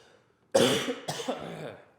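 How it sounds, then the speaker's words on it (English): A sharp cough bursts out after a short silence, followed by a second rougher cough and a trailing throaty exhale, close and loud. "I need a cough."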